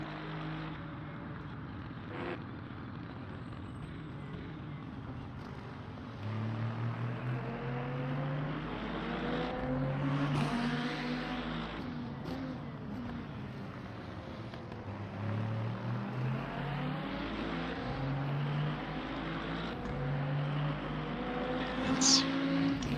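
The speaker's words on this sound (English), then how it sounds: "The hypercars are coming." Hypercars in a Le Mans 24-hour racing game roar past in a steady engine drone that rises and falls in pitch as they pass, with no talk.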